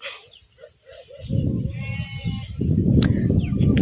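Sheep out grazing in the afternoon give a few faint bleats early on, then a louder, denser stretch of bleating and shuffling from the flock builds and continues to the end.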